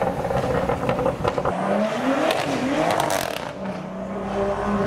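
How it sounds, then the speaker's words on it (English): Lamborghini Aventador driving past at a business park roundabout, its engine rising and falling loudly close by, with revving and some tyre noise over steady traffic rumble. "There's an Aventador coming, it's all good"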